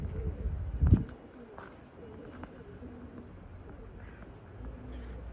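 Tumbler pigeons flying and landing outdoors, with soft wing flutters and faint cooing over a low background hum, one louder burst near the start.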